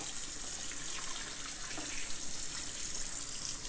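Cold tap water running into a kitchen sink while finely cut collard greens are rinsed, a steady, continuous splashing hiss at moderate level with no talking.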